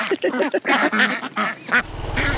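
Ducks quack in a rapid run of loud, nasal calls close by, with a low motor-like hum joining at the end, somewhere in Vietnam.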